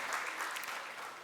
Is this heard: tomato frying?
no